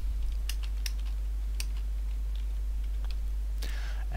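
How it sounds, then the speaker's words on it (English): Computer keyboard typing while entering a campaign name in an IL2 mission builder, sparse light key clicks spread out over a loud steady low hum. "I'm just going to type in here"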